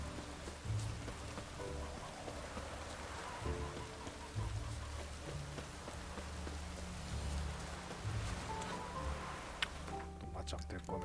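Steady rain pours throughout a town in The Witcher 3 video game, a constant dense hiss of drops under game music, with a brief pause near the end.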